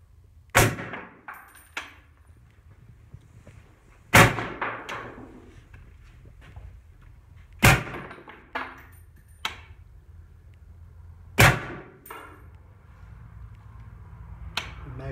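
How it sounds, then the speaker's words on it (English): Shots from a 16-inch .308 AR-10 rifle fitted with a suppressor ring out as sharp, evenly spaced reports about every three and a half seconds, each followed by a quieter click or clank and some softer handling noises in between. "Shooting 100 rounds through a tie can on a 16-inch AR-10."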